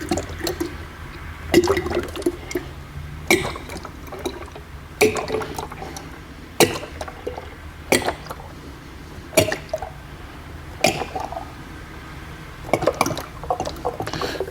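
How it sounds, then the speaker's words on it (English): Reset car wash soap being poured into a foam cannon bottle during a Mitsubishi Evo 8 decontamination wash, heard as repeated bursts of liquid splashing and gurgling with pauses between pours and handling clatter. "Let's fill this up with Reset."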